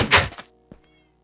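A cat in the Minecraft video game gives a short, faint meow just after a dull thump, with a brief burst of noise at the start and quiet afterward.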